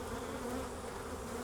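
Honey bees fill the air with a dense, continuous close-up buzz as a hive frame is inspected and shaken, a steady drone with no pauses.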